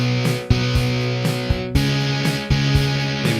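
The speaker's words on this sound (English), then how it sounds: "Let's add a little reverb." A GarageBand electric guitar runs through drive with reverb added, playing a steady distorted chord riff whose notes ring and blur into each other, with no voices.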